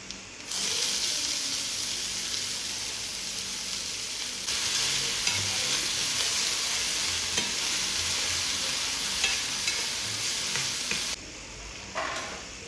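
Onions fry in a pan with cumin and fennel, giving a steady, loud sizzle with stirring scrapes. The hiss briefly drops near the end before resuming, with no talking.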